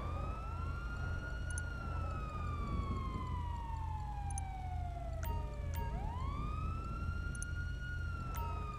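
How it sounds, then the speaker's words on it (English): Police car sirens in GTA 5 wail continuously, sweeping down in long glides and then back up, loud and close over a steady low rumble of traffic and engine. "It sounds like the cops are behind us, but they're not."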